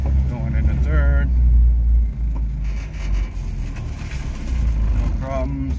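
Subaru Sambar mini truck engine revving up through first, second and third gears, a low rumbling drone that rises and drops at each shift, with someone talking over it.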